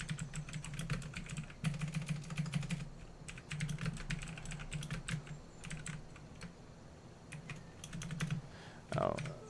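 Rapid typing on a computer keyboard comes in bursts of sharp clicking separated by short pauses, close and fairly quiet over a steady low hum.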